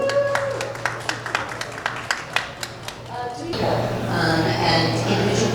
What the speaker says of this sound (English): a little round of applause for Catherine